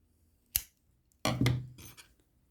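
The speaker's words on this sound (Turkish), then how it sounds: "Şimdi şuraya bir zincir daha çekip ipimi kesiyorum." Scissors snip thread during punch needle embroidery of a lavender sachet, with one sharp close snip followed by a short pause and then a louder, longer cutting crunch.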